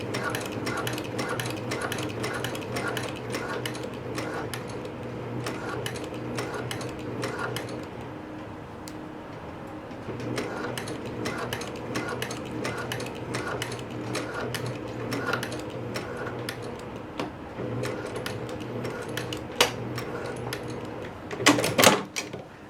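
A sewing machine top stitches along a pants seam in bursts of rapid mechanical ticking. There is a brief pause partway, then it runs again and ends with a few louder clunks close by.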